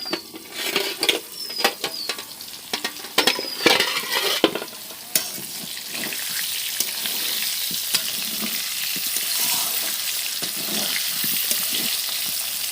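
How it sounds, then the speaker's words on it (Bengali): Potato pieces fry in oil seasoned with salt, turmeric and chilli powder, giving a continuous close sizzle broken early on by irregular stirring scrapes and clatter, with no talking. "আর একটু শুকনো লঙ্কার গুঁড়ো দিয়ে তেলের মধ্যে দেখো আলুগুলো ভেজে নিচ্ছি"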